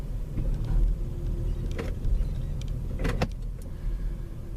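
A BMW engine idles steadily nearby with a constant low hum while the gear selector is moved through the gears, and a few brief clicks and knocks sound over the running engine.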